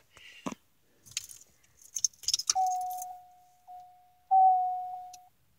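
Inside a 1989 Cadillac, a few jingling, clicking handling noises give way to the warning chime, a steady, clear electronic tone that holds for a few seconds, pauses briefly, then sounds again, loud and close.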